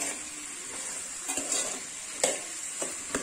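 Sambar dal with vegetables is stirred in a pot on low flame, a few soft scrapes and clinks of the spoon over a quiet steady sizzle, with nobody speaking.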